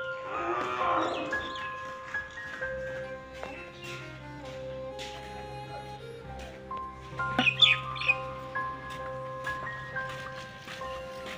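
A cow lows in a drawn-out moo at the start in a rural farm setting, with further faint animal calls and a brief louder burst midway over a quiet background, with no talk.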